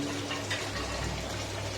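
Water flows into a village well, a steady close rushing and splashing with a low constant hum underneath and no talk.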